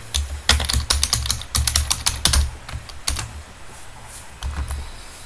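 Rapid clattering keystrokes on a computer keyboard with a few missing keys, in irregular bursts with short pauses, close and fairly loud, no voices.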